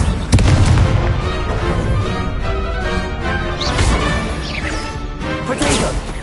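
The Incendio fire spell is cast in Hogwarts Legacy, giving bursts of crackling, booming magical impacts mixed with whooshes and clashing effects. The sounds come in quick succession and fill the clip loudly.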